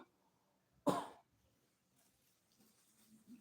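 A single sharp cough from a woman doing nail art, loud and close, then a quiet room with faint rustling afterward.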